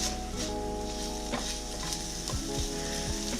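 Eggs fry in a wok for fried rice with a steady close sizzle, a few light scraping stirs, and a low steady hum underneath, with no one speaking.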